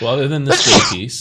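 A single sharp sneeze bursts out in the middle of someone's speech, loud and close, with talking just before and after.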